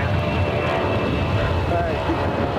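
A heavy jet taxiing at LAX airport gives a steady, loud engine roar with broadband rumble, continuous across the whole stretch, with wind buffeting the microphone.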